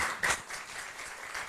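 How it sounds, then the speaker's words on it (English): Faint, distant applause from an audience welcoming speakers at a university social responsibility event. It forms a soft, even patter over a brief moment, with one slightly louder burst near the start. "Let us give them a warm round of applause."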